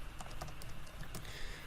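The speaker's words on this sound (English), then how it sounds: "if I was to type some numbers here" Numbers typed on a computer keyboard, a short close run of light, quick key clicks in an uneven rhythm, heard alone.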